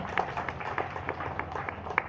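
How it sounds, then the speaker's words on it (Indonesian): Scattered, uneven hand claps from an audience at a municipal legal outreach session in Medan, a few sharp claps spread over about two seconds against a low room murmur. "Tepuk tangan buat kita semua."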